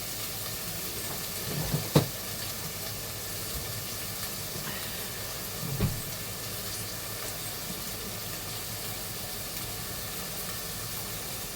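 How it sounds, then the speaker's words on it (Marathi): Chopped onion cooking in a pan over a low gas flame, a soft steady sizzle and hiss with a couple of light stirring knocks. "मस्तपैकी आपला कांदा शिजवून घ्यायचा ह्याच्यामध्ये."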